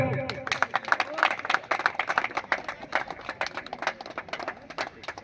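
Audience clapping at a welcome ceremony in Jamugadia, Dedurisahi: a dense burst of many hands applauding, loud and close, with uneven sharp claps that thin toward the end.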